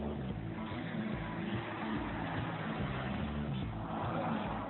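Expensive, outrageously noisy fast sports cars rev and roar in a continuous close engine drone with rising and falling pitch, dense and unbroken, no talking.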